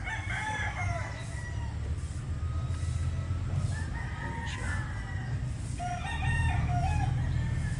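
A Boston Roundhead gamefowl rooster crows repeatedly, several distinct cock-a-doodle-doo calls rising over steady low background noise, with clucking from nearby fowl and the loudest crow near the end.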